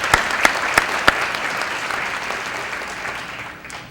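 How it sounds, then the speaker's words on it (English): Audience applause at the 14th annual Black History luncheon: a few sharp, close claps ring out at the start, then a dense wash of clapping fills the room and slowly tapers off. "a round of applause for everyone at Walmart"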